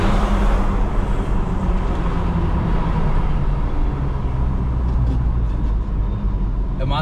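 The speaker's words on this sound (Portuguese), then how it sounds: "Massa ouvir o barulhinho da turbina dela," A chipped VW Amarok 2.0 turbo with a straight exhaust drives past at close range, a loud steady rumble of engine and road noise holding throughout with no talk.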